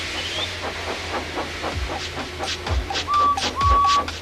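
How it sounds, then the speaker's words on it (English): Steam locomotive from the 1991 Thomas and Friends children's series puffing away in several rhythmic chuffs with steady hiss, brief whistle-like tones near the end, with no talking. "So they lit his fire, made lots of steam, and Edward puffed away."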